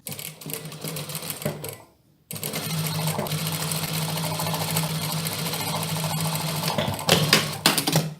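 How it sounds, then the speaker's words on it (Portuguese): Sewing machine stitching steadily over pinned fabric for a dress, loud and continuous apart from a brief pause near the start, then running on without talk. "Agora assim, ó, está todo alfinetado, eu vou passar a minha máquina."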